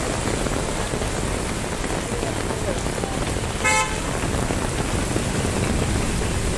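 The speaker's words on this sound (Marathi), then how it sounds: "एवढा मोठा पाऊस आहे बघा" Heavy rain pours down in Viman Nagar, Pune, a loud dense hiss filling the whole stretch, with a short car horn toot midway and faint talk beneath.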